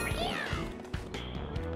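Super Mario 3D World on Wii U plays its cat power-up: a brief bright jingle with a meow-like cry, mixed with other game effects.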